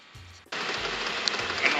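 Washing machine running its cycle after a transmission repair, heard from the rear of the machine as a steady, loud broadband whir that starts abruptly after a brief low rumble and continues without pause.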